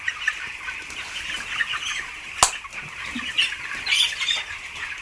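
Broiler chicks in a farm shed with about 1300 birds flap their wings and squawk, a busy crowd of chirps and cheeps with one sharp flurry of flapping midway, close and constant with no talking.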